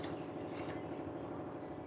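Four cups of water pour steadily into a pressure cooker holding roasted millet and moong dal for a Tamil payasam, a continuous close rushing and splashing.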